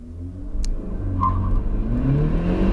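A 2020 Honda Civic Si pulls hard from a standstill toward 60 mph, its engine note rising in a loud, steady drone with a whirring rise in pitch and no speech.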